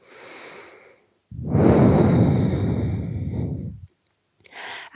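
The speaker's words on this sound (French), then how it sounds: "2 respirations ici." Deep, slow breaths during a vinyasa yoga flow: a long, loud exhale sigh lasting over two seconds, framed by softer breaths before and a brief inhale at the end, close and alone without talk.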